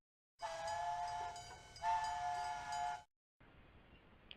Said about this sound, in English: I thought I could hear the sound of an engine's whistle.